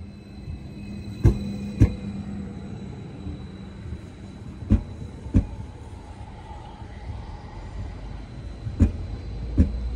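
A train pulls into platform 1A at a German station, a low rumble with rhythmic pairs of wheel clacks over rail joints repeating every few seconds, moderately close.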